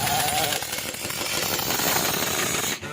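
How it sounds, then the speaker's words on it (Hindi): A power tool tightens the wheel nuts while four new tyres are fitted at a shop, giving a loud, continuous buzzing whir that drops away briefly near the end. "मशीन से टाइट कर रहा है।"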